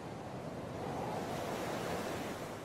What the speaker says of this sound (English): Circling this island is an ocean like no other.